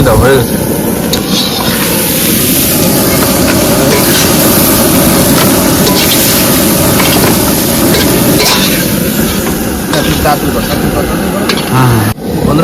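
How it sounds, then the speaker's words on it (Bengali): Loud, continuous sizzling of crab frying in a pan, with a dense crackle that never lets up, and voices mixed in. "কাঁকড়া ভাজা হয়ে গেছে"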